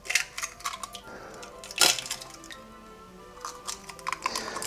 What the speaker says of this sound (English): we're gonna put those in and whisk it until smooth